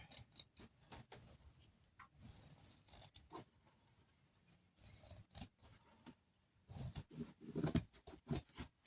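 Scissors snipping through a small part for a miniature dollhouse bed, a series of close, crisp cuts and clicks that grow busier and louder near the end.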